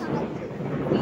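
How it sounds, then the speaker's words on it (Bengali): Thunder rumbling during a storm, a low continuous roll that fills the brief moment with a slight swell near the end, no clear talk over it. "হেভি বিদ্যুৎ চমকাচ্ছে"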